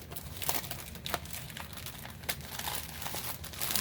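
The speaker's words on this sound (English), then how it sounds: "If my scissors will open the plastic." Scissors opening plastic packaging on a box, close crinkling and rustling of plastic with a few sharp snips and crunches, quiet and continuous.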